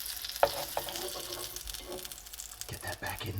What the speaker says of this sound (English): It's got a little fry happening.